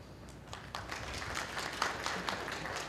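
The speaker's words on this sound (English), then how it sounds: "There's a smattering of applause" Scattered, light applause from a conference audience at a skeptics' gathering, a steady patter of claps spread across the room, moderately distant and sustained for a few seconds with no talking.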